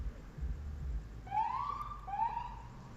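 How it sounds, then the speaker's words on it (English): A police car siren sweeps past on a city street in Garden Grove, two rising-and-falling wails standing out clearly over a low rumble of traffic. "Oh, I hear an ambulance."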